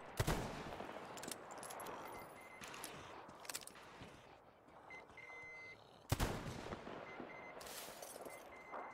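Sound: gunfire in video game Metro Exodus

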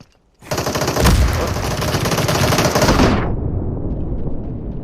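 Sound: MP5 gunfire in the video game Super People

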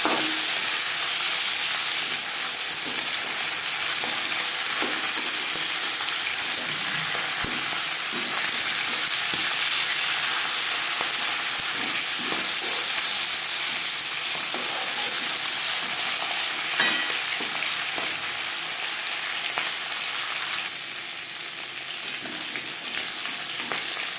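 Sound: fish head frying in oil after being flipped

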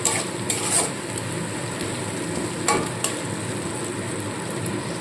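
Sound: masala paste stirred and frying with onions in pan

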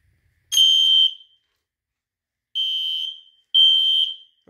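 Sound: smoke alarm sounding in mini fire alarm system test

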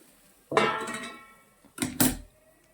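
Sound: pot being covered with its lid

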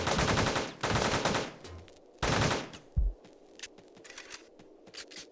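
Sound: gunfire in the video game Teleglitch

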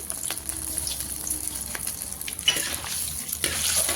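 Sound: mustard seeds spluttering in hot coconut oil

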